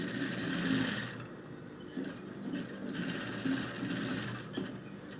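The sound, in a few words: sewing machine sewing fabric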